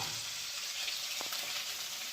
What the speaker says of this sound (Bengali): আলু কপি ভাজা হচ্ছে